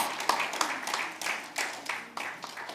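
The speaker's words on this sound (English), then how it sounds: "Give them another round of applause." Applause from a church congregation on Family Sunday after a performance, moderately loud and steady with scattered clap peaks, over about three seconds.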